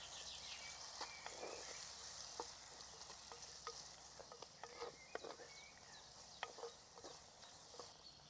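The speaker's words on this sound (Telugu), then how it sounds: "ఇప్పుడు చింతపండు పులుసు కూడా పోసుకుని ఒకసారి బాగా కలుపుకుందాం" Gongura cooking with salt, chilli and tamarind water in a pan, a soft steady sizzle broken by scattered clicks and scrapes of stirring, faint and close.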